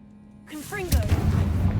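A Confringo blasting spell from Hogwarts Legacy goes off as a single loud, close burst, preceded by a short rising magical whistle, with a rumbling tail that lingers to the end under faint game ambience.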